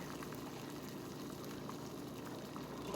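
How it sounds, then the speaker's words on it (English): Steady bubbling of boiling water, a continuous dense hiss and burble at close range with no voices, unchanging throughout. "Okay, I have my water boiling"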